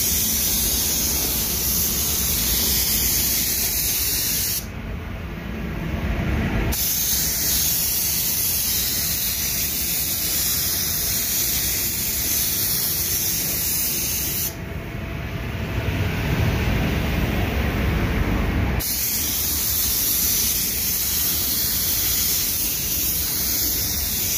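Spray gun laying black varnish onto a car side panel, a steady close hiss of atomized spray running in long continuous passes with two brief pauses between strokes.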